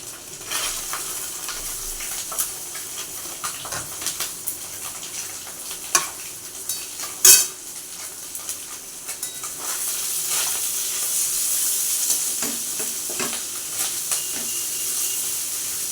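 Chopped onion and green chilli fry in a pan for a fish and pointed gourd dish, a steady hiss broken by scattered stirring clicks and one sharp clatter, the sizzle growing fuller toward the end.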